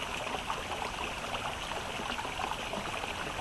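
Water poured onto a small campfire about four inches across, several dozen litres in all, making a steady, fairly quiet splashing and trickling hiss that continues without break.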